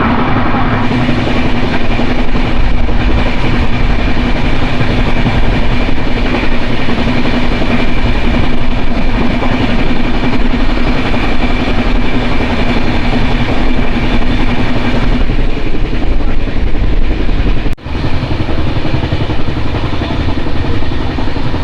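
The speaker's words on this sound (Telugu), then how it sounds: "22650 ఈరోడ్ జంక్షన్ నుంచి ఎంజిఆర్ చెన్నై సెంట్రల్ వరకు వెళ్ళే సూపర్ ఫాస్ట్ ఎక్స్ప్రెస్ ట్రైన్" Train No. 22650, the Erode Junction to MGR Chennai Central superfast express, running at about 100 to 110 km/h, with a loud, steady close-up roar of wheels and rails that continues without a break and has no talk over it.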